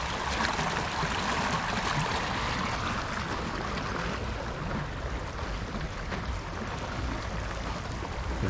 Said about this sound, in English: Few things more pleasing to the ear than flowing water.